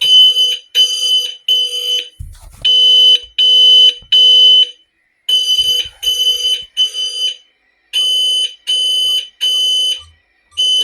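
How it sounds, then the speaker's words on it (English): A loud electronic home security alarm, a SimpliSafe Gen 1 system set off by a smoke detector, beeping in rapid repeated bursts, pausing briefly between groups, with faint thumps in the gaps; no voices. "there was a recent alarm triggered by smoke detector"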